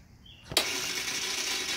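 A scooter's starter motor spins without engaging, a sudden whirring burst that starts abruptly and holds a steady, fairly quiet whine, heard alone.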